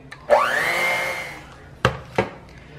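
Countertop blender whirring through chocolate chip peanut butter cheesecake fat bomb batter, starting with a sharp close roar that runs steadily for over a second and then stops, followed by two short knocking bumps.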